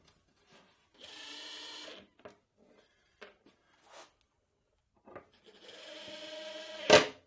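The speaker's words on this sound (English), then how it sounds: "I'll put a couple of screws in now" A power driver sets screws into drawer slides on a folding vertical drawer, giving two sustained whirring runs of about a second each, with scattered knocks and handling taps between them and a sharp bang at the end.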